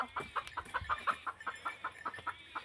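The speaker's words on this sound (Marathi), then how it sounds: "हे बघा ह्या देशी कोंबड्या मी माझ्या बहिणीकडे आणून सोडलेत." Desi hens in a large wire-mesh enclosure cluck in a steady, rapid series of short calls, fairly close and clear, with no talking over them.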